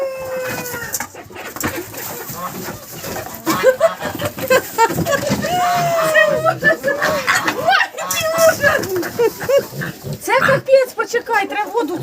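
Piglets grunting and squealing as they are moved to a new pen, sharp squeals mixed with frequent grunts and bursts of handling noise, close by, with people talking throughout.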